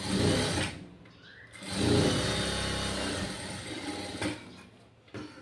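A sewing machine stitching a cotton-lined summer garment whirs in two bursts, a short run and then a longer steady one, close and moderately loud, with brief pauses between.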